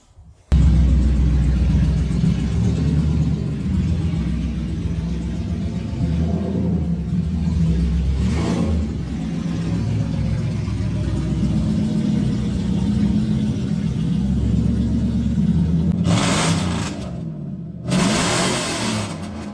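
A Lexus LS400 engine runs close by with a deep rumbling idle, rising in a few revving swells, with brief sharper noises near the end.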